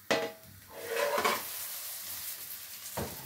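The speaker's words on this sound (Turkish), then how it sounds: "Az da altını kızarttım şimdi." Egg-coated food fries in a pan, giving a soft, steady sizzle close by, with brief scrapes and clatters from turning it with a utensil.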